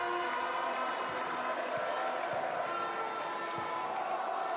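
Packed arena crowd at a CEV volleyball match, a dense continuous roar of many voices with scattered thumps underneath, steady and loud throughout.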